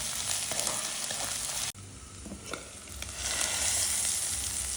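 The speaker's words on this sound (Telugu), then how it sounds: "ఈ అల్లం వెల్లుల్లి పేస్ట్ కూడా ఒక 2 మినిట్స్ ఇందులో వేయించుకుంటాం." Mutton sizzles and fries steadily with ginger garlic paste in a pan, with a brief stir or clatter partway through and then a louder hiss returning.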